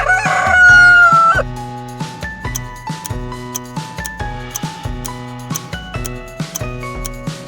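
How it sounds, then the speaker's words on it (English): A rooster gives one loud, close crow at the start, over a bouncy background tune with plinking notes that carries on after the call ends. "Rooster! Perfect."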